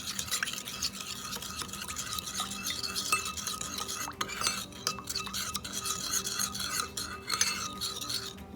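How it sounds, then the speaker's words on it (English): A spoon scrapes and clinks against a bowl as a vinegar and lemon juice sauce is stirred, a quick irregular rhythm of wet scraping close up, with no talking. "Mix that all up."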